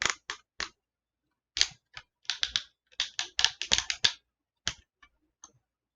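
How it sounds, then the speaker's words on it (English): Joints on a Classics Voyager Megatron toy figure click loudly as the hips are moved, sharp dry clicks coming in uneven bursts, some rapid runs and a few single clicks, close up with no talking. "Ooh, there's that loud clicking."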